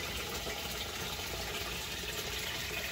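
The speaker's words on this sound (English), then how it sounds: "And then the water flows through the effluent weir uh, holes." Water from a 100-gallon aquaponics fish tank pours steadily through 48 half-inch weir holes in a radial flow settling tank, making a dense, continuous rushing trickle close by with no pauses.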